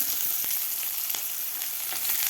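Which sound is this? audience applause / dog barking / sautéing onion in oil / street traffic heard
sautéing onion in oil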